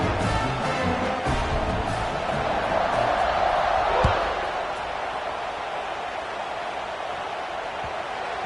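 A stadium crowd roars at a kickoff in an American football video game, a steady loud wash of cheering that holds throughout, with a single thud near the middle and a commentator talking over it.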